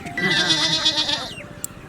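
A goat bleats loudly at close range in one long wavering call, with a faint click just after it ends.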